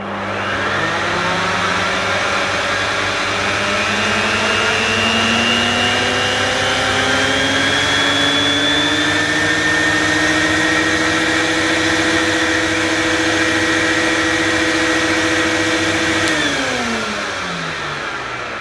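A 1980s Electrolux Electronic 506 upright vacuum cleaner runs steadily and loudly up close, its motor whine holding a constant pitch with a slight rise before winding down at the end.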